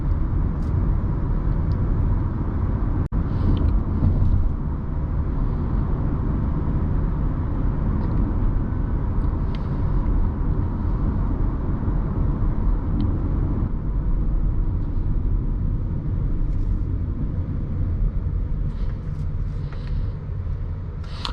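A 2018 Audi A4 S-Line accelerates on the road, heard from inside the cabin as a steady, loud engine and road rumble that holds evenly throughout.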